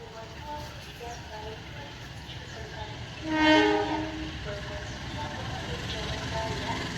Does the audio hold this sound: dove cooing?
no